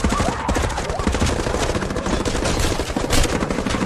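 Dense automatic gunfire from an action film scene rattles without a break, loud and close, with bursts overlapping into a continuous barrage.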